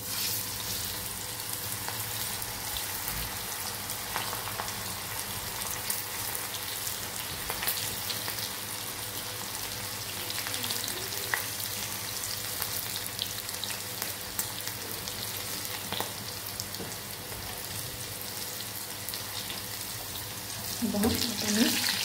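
Okra (bhindi) frying in a pan over a gas flame gives a continuous close crackling sizzle. Small clinks and stirring noises come and go, and it grows slightly louder near the end.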